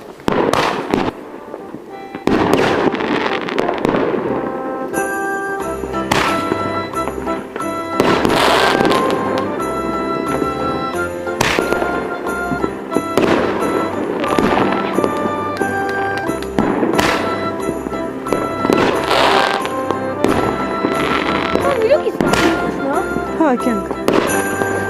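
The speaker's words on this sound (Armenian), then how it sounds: "Բարձրանանք այստեղ ու տենանք գյուղը ինչ հրավառություն է անում։" Village fireworks burst at midnight on New Year's Eve, a continuous barrage of booms and crackling pops at varying distances, with people's voices heard between the blasts.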